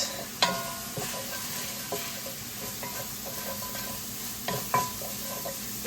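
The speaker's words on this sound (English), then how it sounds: "let us give this a little mix" Pieces of turkey seasoned with shawarma spice sizzle in a pan while a utensil stirs them, with scattered sharp scrapes and clacks over a steady frying hiss and no talking.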